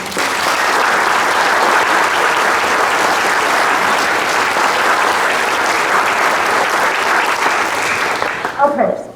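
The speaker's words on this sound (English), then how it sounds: "So we'll applaud Charlie, and we'll try to make sure he knows that we did" Loud, sustained applause from a crowd, steady clapping that carries on for several seconds before fading out at the end.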